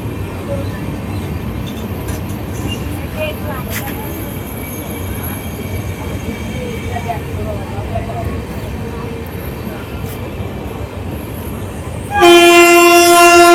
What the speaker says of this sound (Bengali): ঢুকে গেল আমাদের ট্রেন